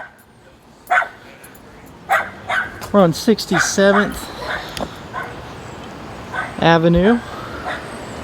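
A small toy dog barks angrily outdoors on a street near a truck rollover, with repeated sharp yips and barks in short bursts mixed with someone talking nearby.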